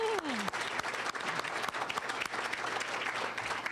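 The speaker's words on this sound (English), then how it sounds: "Please join me again in another round of applause." Sustained audience applause at a college honor society awards banquet, dense and steady clapping from a sizable crowd with a few sharper claps standing out, a brief voice at the very start.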